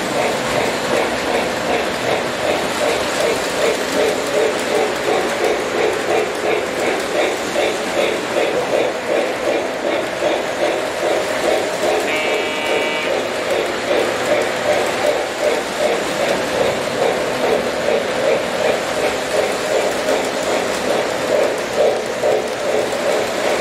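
A Great Northern model train runs on a layout, a steady mechanical hum with a fast, rhythmic clicking from the wheels on the track, close and continuous throughout.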